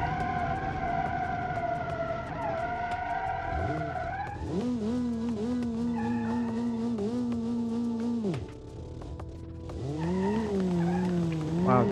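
An off-road car with a blown tire drives in BeamNG.Drive, its engine droning steadily with rising and falling pitch through gear changes, loud and continuous throughout.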